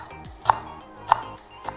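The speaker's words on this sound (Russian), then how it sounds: "И теперь нам осталось только нарезать петрушку для подачи." A knife chops parsley on a board in a kitchen, three sharp distinct strikes spaced about half a second apart over soft background noise.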